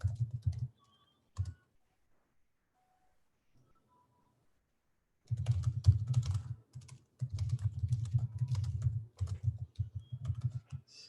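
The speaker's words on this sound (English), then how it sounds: "So let me just type that to our subscribers." Bursts of fast typing on a computer keyboard, close and clear, in a short run near the start and then a long steady stretch of rapid keystrokes after a quiet pause, with no talking.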